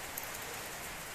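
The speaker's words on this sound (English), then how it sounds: "Standing in a shed because it's raining." Rain pours onto a shed roof, a steady close hiss of drops that stays even and unbroken through the whole short stretch.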